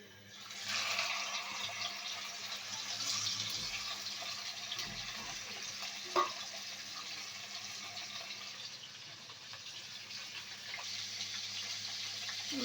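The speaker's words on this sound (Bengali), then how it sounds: "এভাবে উল্টে পাল্টে আমি মাছের মুড়াটা ভেজে নিব।" A grass carp head rubbed with salt and turmeric fries in hot oil, producing a steady, quiet sizzling hiss that holds throughout, with one brief clink midway and no speech.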